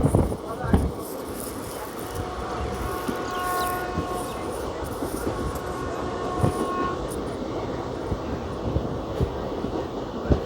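The Howrah–Secunderabad special train moves slowly through Annavaram, with a continuous rumble of rolling wagons, clattering wheels and occasional sharp knocks, heard from on board, and steady tonal hums running through it.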